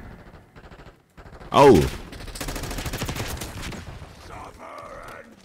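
Rapid automatic gunfire in the multiplayer shooter Call of Duty Black Ops 6 on the Nuketown map, a loud burst of close shots after a brief gap, followed by further sustained fire and a short exclamation from a player.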